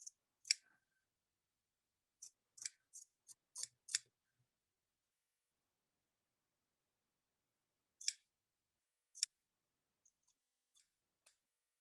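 Scissors trimming a fabric seam while lining a bodice facing, with faint, sparse snips in small clusters separated by quiet pauses.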